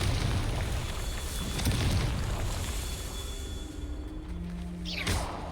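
Explosive spell cast in Hogwarts Legacy, a fiery boom with a rushing whoosh that swells and fades over a steady rumbling game backdrop, with a second burst near the end.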